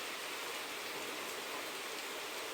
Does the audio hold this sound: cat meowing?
no